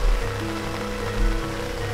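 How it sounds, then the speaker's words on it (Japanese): Heavy rain drums steadily on a camping tent during a downpour at Fumotoppara campsite, a dense continuous patter with low rumbling underneath, close and even throughout with no talking. "雨はちょっとね"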